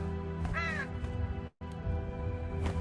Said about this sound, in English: Let's give the crow the last stone and see what happens.